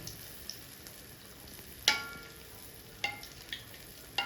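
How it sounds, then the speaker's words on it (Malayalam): Neyyappam fries in hot oil with oil spooned over it: a quiet, steady sizzle with a few sharp clinks of the spoon against the pan. "നെയ്പ്പത്തിൻ്റെ മുകളിലേക്ക് ഇങ്ങനെ എണ്ണ കോരി ഒഴിക്കുമ്പോൾ വേഗം പെട്ടെന്ന് കോമളച്ച് വരും"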